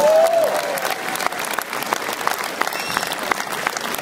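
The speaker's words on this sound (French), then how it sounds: "J'aimerais qu'on applaudisse." Audience applause after a film screening with its director and cast, a dense, sustained wash of clapping throughout, with faint crowd murmur underneath.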